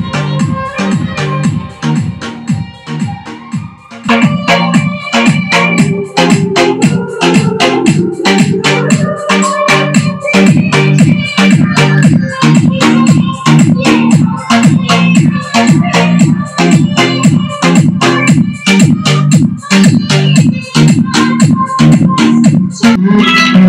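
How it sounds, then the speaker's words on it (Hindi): A song plays through a car audio system over a Bluetooth connection, steady loud music with a strong regular beat and a booming low end, running continuously without talk. "तो आप लोग सुन सकते हैं कि गाना कैसे बज रहा है।"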